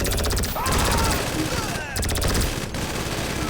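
Rapid automatic weapon fire in GTA V, loud and sustained bursts with two short breaks, a voice talking over the shooting.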